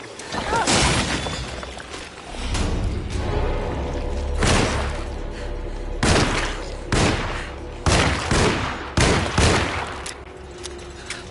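Gunfire in the video game Alone in the Dark aimed at a headshot: a series of loud, sharp shots spaced irregularly over a steady low rumble of game ambience, with several blasts clustered toward the end.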